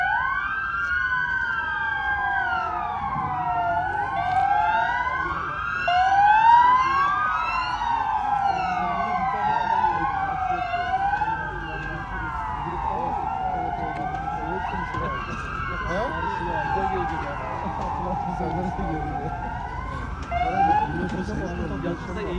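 Several wailing emergency sirens from newly arrived vehicles in Hakkari rise and fall in overlapping cycles, loud and continuous over a low rumble of traffic.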